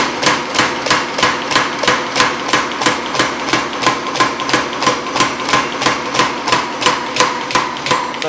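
Metal planished under a hand hammer, a long run of steady, evenly spaced sharp ringing strikes, close and loud with no pauses or talk.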